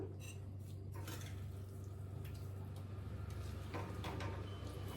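A bowl is lifted and handled in a home kitchen while mango pachadi is made, with faint clinks and light scrapes of dishware over a low, steady background hum.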